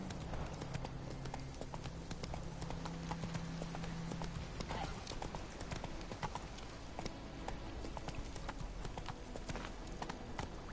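Steady clip-clop of horse hooves trotting while riding in The Witcher 3 video game, continuous and fairly close, with game ambience and music underneath.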